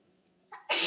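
A single sneeze bursts out loud and close near the end, preceded by a sharp intake of breath, over a quiet kitchen background during cooking.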